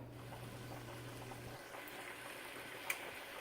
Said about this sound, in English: while the beans are boiling